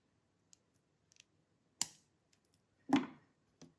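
Small wire cutters snipping the wire tail of a handmade tassel earring: a few close, crisp clicks and two sharper snips in an otherwise quiet room.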